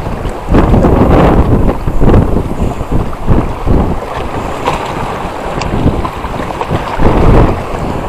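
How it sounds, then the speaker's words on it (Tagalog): Strong wind buffets a small fishing boat out on the sea, a loud continuous roar with gusting surges and microphone rumble, water and waves faintly beneath. "Grabe, lakas ng hangin guys."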